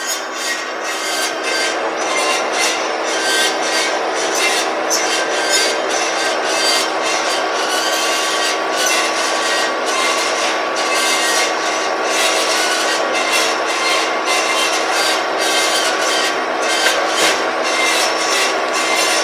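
A used Peerless Model 1400-A automatic horizontal bandsaw with a 1-1/4 inch blade cuts a trim piece of stock, giving a loud, continuous metallic grinding whine with a steady rhythmic rasp throughout and no voices.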